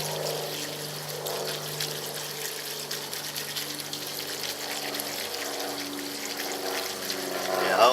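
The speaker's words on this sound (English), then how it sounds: "we're gonna rinse our clay pellets." Clay pellets are rinsed with water for a hydroponic pot, a steady wash of pouring and trickling that swells slightly toward the end, with a voice faintly present underneath.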